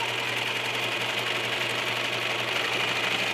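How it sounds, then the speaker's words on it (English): A four-thread serger overlock machine stitches a sleeve cuff, a steady loud mechanical whir with a constant hum and no pauses. "So let's go to the serger."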